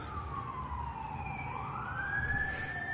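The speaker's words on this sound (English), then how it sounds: "Fire Truck Attacking People with Sirens." A fire truck siren at night, its wailing tone sweeping down then rising again, loud and continuous over a low rumble of traffic.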